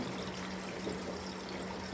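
An LG 8 kg front-load washing machine drains its pre-wash water, a steady close gush and trickle with a low hum underneath, no talking.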